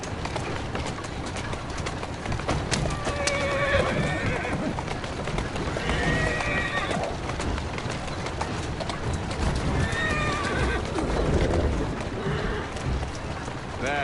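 Hooves pound in a quick galloping rhythm while a horse neighs several times, loud and close, over constant rumbling motion, in Assassin's Creed Syndicate.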